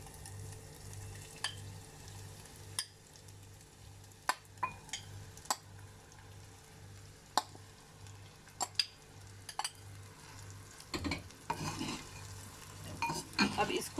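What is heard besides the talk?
marinated chicken added to pan and fried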